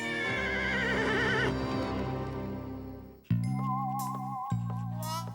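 A cartoon horse neighs in a long, wavering whinny for about three seconds, loud and close, then gives way to bright animated-series music with sustained chords and tinkling accents.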